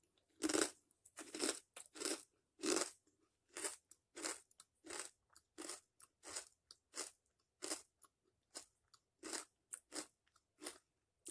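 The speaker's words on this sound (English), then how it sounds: "The cracker is super crunchy." A cranberry cracker topped with cheese is bitten and chewed up close, giving about twenty crisp, loud crunches in an irregular rhythm separated by brief silences.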